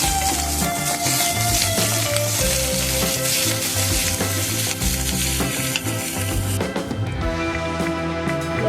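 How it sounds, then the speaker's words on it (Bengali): Prawn heads fry in hot oil with a loud, steady sizzle, while a utensil stirs and scrapes the pan in irregular clinks throughout, close and continuous. "চিংড়ি মাছের মাথাটা আমি দিয়ে দিলাম। এবার এইটাও একটু ভালো করে ভাজবো।"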